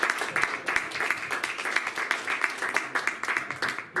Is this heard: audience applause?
yes